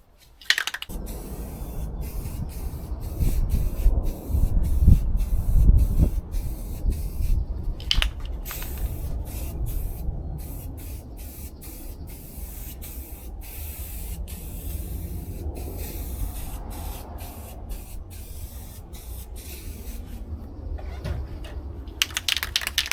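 A spray paint can laying down a coat on a Honda CRX sunroof delete plate, long steady hissing with short breaks, and a brisk rattling tick pattern running through it.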